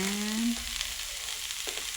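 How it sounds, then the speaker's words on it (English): Breakfast ingredients sizzling in a pan with chili powder, steady close frying hiss with a brief tonal squeak early on and light scraping stirs, no voices. "Keep stirring till it fits in."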